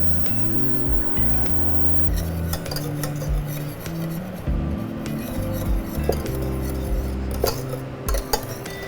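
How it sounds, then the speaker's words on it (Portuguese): Pirão, a thick flour porridge, being stirred in a pot: steady clinking and scraping of a utensil against the pot, close and continuous with irregular taps, no talking. "E sempre mexendo para ela não empelotar, não criar aquelas bolinhas de farinha no pirão"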